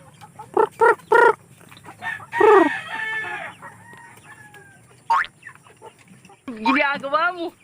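Young black Australorp chickens, newly moved from the brooder onto an outdoor range, cluck and call in short bursts close by, with a few longer crowing-like calls and a human voice in between.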